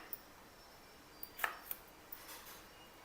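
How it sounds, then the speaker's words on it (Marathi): A knife chops ridge gourd on a cutting board, a handful of soft, sparse taps spaced irregularly, faint and close in a quiet room. "दोडक्याला आता कापून घ्यायचं।"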